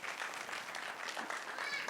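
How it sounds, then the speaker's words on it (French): Audience applause at a film club screening and discussion about violence against women, a steady wash of clapping heard alone and fairly faint throughout. "Applaudissez pour elle."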